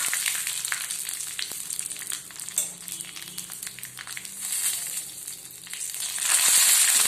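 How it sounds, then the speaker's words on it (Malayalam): Dried red chillies fry in hot oil with spluttering mustard seeds for a soya chunks gravy, giving a steady close sizzle with continuous crackles and small pops, swelling louder near the end, with no voices. "വറ്റൽമുളക് ഇട്ട് കൊടുക്കാം."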